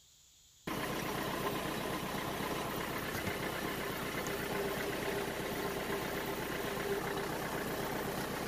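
Engine of a Latil Saviem TL22 vehicle running steadily while the clutch is worked at its slipping point, heard as a loud, continuous mechanical drone with vibration that starts abruptly after a moment of quiet.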